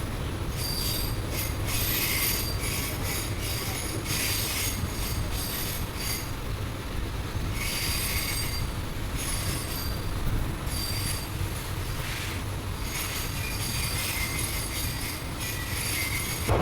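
An express train rolls steadily along the rails at about 70 km/h on a rural line near Thirunallar and Peralam, Tamil Nadu, with a continuous low rumble and bursts of high metallic squealing from the wheels throughout.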